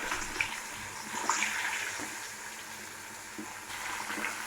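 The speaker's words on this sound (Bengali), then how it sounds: "মাছটা উল্টে দিয়েছি, মাছটা ভাজা হোক" Fish frying in a pan with mustard, chili and tomato masala being prepared, giving a soft, steady sizzle and bubbling at low volume with a few light clinks, no talking.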